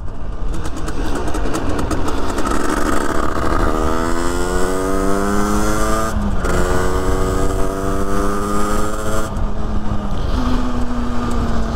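An overheating 1986 motorcycle engine runs loudly and steadily, its pitch rising through gears as the bike pulls away, with a brief dip and shift midway.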